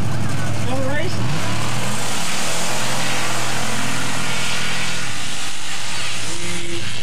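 Mud drag race vehicles launching down the lanes at a Wayne, Nebraska mud drag, a loud, continuous engine roar rising and shifting in pitch as they pull away.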